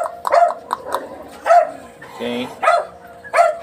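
Dog barks repeatedly in short bursts, close and fairly loud, several spaced barks over a few seconds, with a person speaking briefly alongside; heard during serama chicken table-top training.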